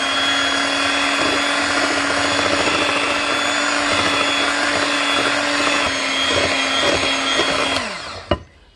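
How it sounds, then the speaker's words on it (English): A kitchen blender whirring steadily as it mixes flour dough for unleavened bread, a loud constant motor drone that winds down and stops near the end with a final clunk. "just turn it on, start blending"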